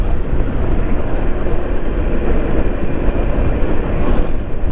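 A loud, steady motorcycle engine roar with heavy wind rumble, recorded while riding hard nearby, continuous throughout with no talking.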